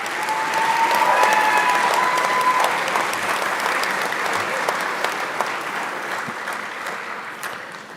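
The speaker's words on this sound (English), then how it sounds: "As I find my place, give them one more round of applause." A hall audience claps steadily for graduates at the close of an NCKTC graduation ceremony, a loud continuous round of applause that slowly thins toward the end, with a brief faint tone near the start.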